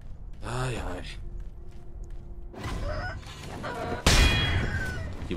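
Chicken clucking and crowing in the video game Sekiro: Shadows Die Twice, with several loud bursts of squawks and a crow, interleaved with game noise and what sounds like a breathy vocal sound.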